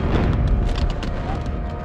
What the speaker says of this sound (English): they unleashed a tremendous volley of rifle and cannon fire